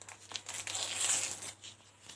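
A packet of baking powder crinkles and rustles up close for a couple of seconds, with a soft tearing texture and no talk.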